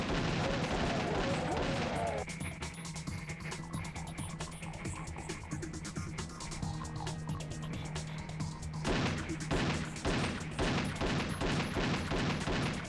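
A machine gun fires in GZDoom, the Doom engine, in dense rapid bursts of sharp shots with crashing impacts, loud and continuous, while someone talks over the gunfire.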